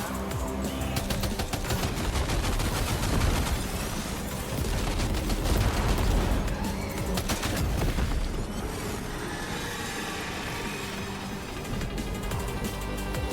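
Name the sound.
machine gun fire in Death Stranding 2 video game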